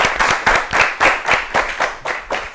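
An audience at an Ethiopian children's televised quiz competition claps enthusiastically, with a dense, steady patter of hands swelling in rhythmic bursts, close and loud, with no speech.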